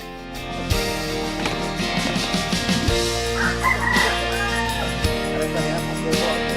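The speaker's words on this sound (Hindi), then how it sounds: "देखिए कैसे ये दो देसी मुर्गे प्रैक्टिस के समय एक दूसरे को मात देने में लगे हैं।" Two desi roosters sparring during a practice fight, with loud crowing and clucking carrying over a busy, noisy outdoor background with some voices.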